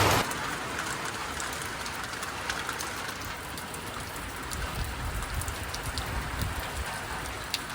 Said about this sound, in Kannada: ಹಂಗೆ ಮಳೆನೂ ಬೀಳತೈತಿ